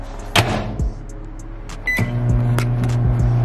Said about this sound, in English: you're gonna probably put it in the microwave for about like 2 minutes or so